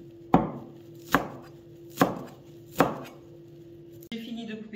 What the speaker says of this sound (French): on va s'occuper du persil. Même chose, je découpe grossièrement.